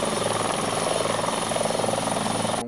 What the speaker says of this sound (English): The RACQ Capricorn rescue helicopter was called in.